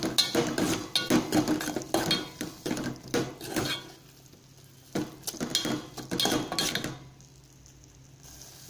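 Spices with a generous amount of coriander powder fried for tomato rasam, heard as repeated close scraping and clinking of a spoon against the pan in bursts, with a soft sizzle beneath, then a quieter pause near the end.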